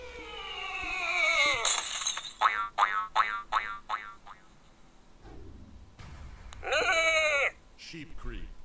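A cartoonish sheep creep creature in the video game Skylanders Trap Team bleats like a sheep in wobbly, springy bursts, a series of quick repeated calls followed by a longer warbling cry.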